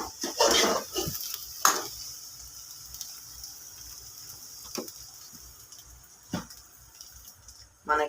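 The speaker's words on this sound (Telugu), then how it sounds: "కొద్దిసేపు అట్లనే కలుపుకుంటా" Egg fry is stirred in a pan, with a few scattered scrapes and metallic knocks of utensil against pan over a low background hiss, mostly quiet with brief louder clatters.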